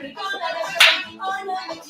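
A single sharp hand clap marks the beat during a simple dance lesson, landing briefly under an instructor's steady talking.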